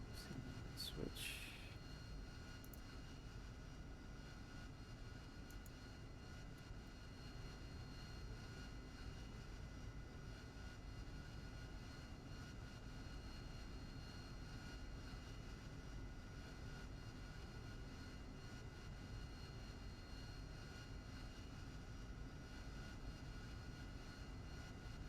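A Harrier jet in the DCS flight simulator starts up with a steady, loud whining engine roar that holds evenly throughout, a short higher hiss flaring near the start and voices talking faintly underneath.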